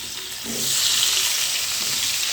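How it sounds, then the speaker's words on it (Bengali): Sliced new potatoes coated in salt and turmeric hit hot oil in a pan, the sizzle swelling after a moment into a steady, bright frying hiss that continues unbroken. "তুলে নেবার পর ওই তেলের মধ্যে আমি ভেজে নেব কিছু আলু"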